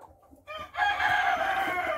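A rooster crows loudly and close by, one drawn-out call that rises and holds, with faint clucking beforehand.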